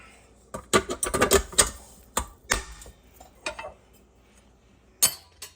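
A whisk beats tiramisu cream in a bowl, rattling with quick, uneven clinks and clicks in bursts and then pausing, close and fairly loud.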